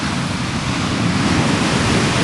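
Surf breaking on the sandy beach at Anglet in December, a steady, loud, continuous wash of waves with no pause and no voices.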